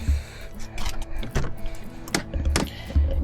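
Someone getting into a car: close rustling and shifting, a few thuds and clicks of the door and seat, ending with a solid closing thump, with no talk.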